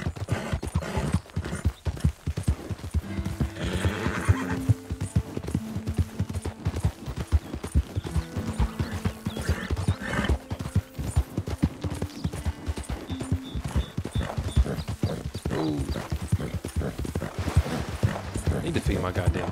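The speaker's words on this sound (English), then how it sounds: "I need to feed my goddamn horse." Steady clip-clop of horse hooves trotting with a brief whinny in Red Dead Redemption 2, mixed with game music and a person talking over it.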